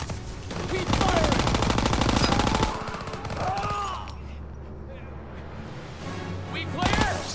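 Battle gunfire from the Call of Duty WW2 campaign: dense, loud bursts of rifle and machine-gun fire with shouted voices over it, thinning into scattered shots and a final burst.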